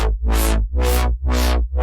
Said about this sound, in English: So in this case, I've got a sine wave modulating my frequency cutoff for my EQ